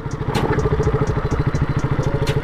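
A motorcycle rides over a rough, rutted dirt road cut by water channels near Jammu, its engine thumping in a steady, loud, close pulse with periodic rattles and clatter as the tyre slips.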